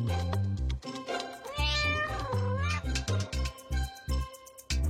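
A cartoon cat meows several times, close and clear, with drawn-out rising and falling cries over a loud, rhythmic music track.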